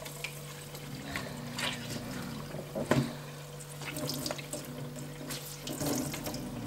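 Water is squeezed and wrung out of a soaked cloth, dribbling and splashing into a sink in uneven bursts, with a stronger gush near the middle.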